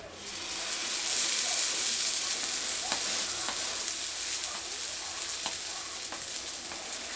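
Semolina batbout flatbread stuffed with minced meat and spinach sizzles in an oiled pan, a steady bright hiss with soft scraping and light taps as it is handled.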